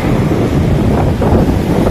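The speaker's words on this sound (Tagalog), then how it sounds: "Lalakas ang hampas ng mga alon sa kasiyahan." Ocean waves surge and wash onto a beach shore while steady wind buffets the microphone, a continuous loud roar with no break and no voices.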